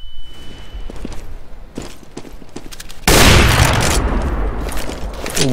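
Rapid gunfire crackles through a CS:GO match, then a loud grenade explosion bursts close by and rumbles on while more shots follow.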